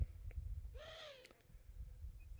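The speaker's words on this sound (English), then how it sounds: "So I'm getting visited by another bird here." An owl gives a single wavering hoot call close by over a low steady background rumble, with a few faint clicks around it.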